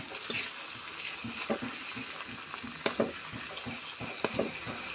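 Ground spices with turmeric, chili powder, green chili and cumin fry in a pan, producing a quiet, continuous sizzle broken by soft scraping and clinking taps from stirring.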